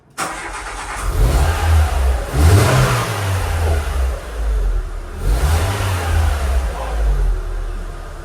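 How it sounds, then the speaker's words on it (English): A car engine starts up close and settles into a steady run, revving up twice in rising and falling swells. "I've got to start the engine"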